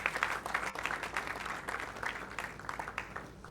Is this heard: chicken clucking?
no